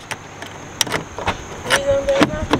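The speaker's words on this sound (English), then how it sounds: "Let me lock the door" A Freightliner truck parked at a Walmart lot gives off scattered clicks, clacks and jangling keys as its door is locked, with a brief whirring motor sound near the end.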